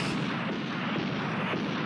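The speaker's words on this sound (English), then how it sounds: "Those sound like gunshots" Dense, booming gunfire rolls continuously, loud and heavy with no gaps or voices.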